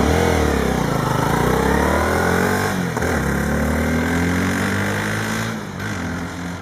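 A 250cc motorcycle engine revs hard and holds high for several seconds with no voices, its pitch climbing and sweeping before easing off slightly near the end, loud and close throughout.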